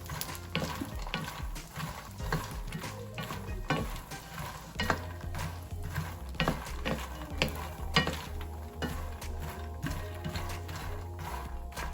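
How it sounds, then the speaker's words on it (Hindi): Fox nuts (makhana) fry lightly in ghee in a pan. A soft sizzle runs under repeated scraping and rattling as they are stirred, with a low hum in the background. "इसके अंदर ये मखाने डाल के इसको हल्का सा बस फ्राई करना है।"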